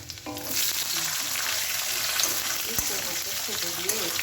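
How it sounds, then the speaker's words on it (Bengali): Chopped ginger and garlic, with onion added, fry in oil in a pan at home. A continuous hissing sizzle runs close and steady, with faint background voices. "হালকা কালার হয়েছে, এবার পেঁয়াজটা দিয়ে দেবো।"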